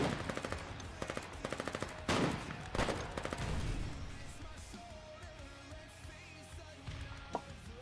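Gunfire from a Velrogue 92 in Foxhole, heard as quick rhythmic bursts of automatic fire with a couple of heavier bangs early on, then fading into quieter background battle noise with a faint sharp crack near the end.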